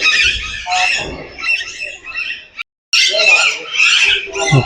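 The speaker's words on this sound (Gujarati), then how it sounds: "કલરવ કરે એનો" Birds in an aviary at a jungle safari park chirp and squawk in dense, overlapping bursts close by, with a brief silent gap midway.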